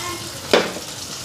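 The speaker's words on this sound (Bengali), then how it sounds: "আজকে ফ্রাই করুম এরকম করে।" Meat frying in a pan: a steady, close sizzle runs throughout, broken midway by a brief, sharper scrape or stir.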